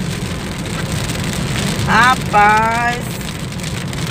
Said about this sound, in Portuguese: E tá vindo uma chuvinha, gente.